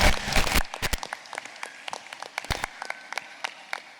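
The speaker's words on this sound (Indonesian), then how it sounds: "Monggo dikasih aplaus." An audience at a primary school graduation ceremony gives a brief burst of applause that fades quickly into scattered, sparse claps in a large room.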